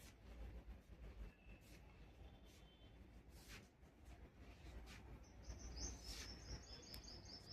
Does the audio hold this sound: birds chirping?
yes